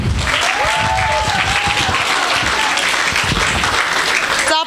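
Sustained, dense applause fills the room at a vocal studio recital, continuing evenly for several seconds while a voice speaks over the clapping.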